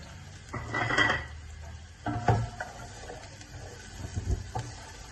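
Two medium onions tipped into a metal pot to brown while cooking mutton yakhni pulao, giving a few clattering scrapes and knocks of utensil against pot at close range, spaced out over a quiet kitchen background.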